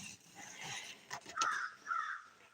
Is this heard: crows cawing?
yes